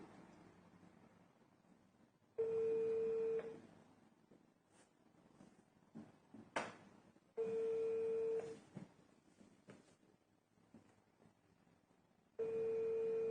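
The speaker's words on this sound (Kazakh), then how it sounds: "Телефон довериясына чалып жатабыз." A phone ringback tone from a call to a helpline repeats three times, each purr about a second long with even gaps, over faint background hiss.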